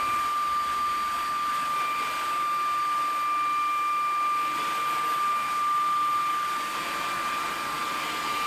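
Vacuum cleaner fitted with a duster brush cleaning ceiling fan blades, giving a steady, loud whirring drone with a faint high whine that holds unchanged throughout.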